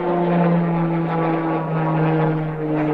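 Propeller airplane passing overhead, a loud steady droning engine hum that swells slightly and fades a little near the end, heard alone without talk.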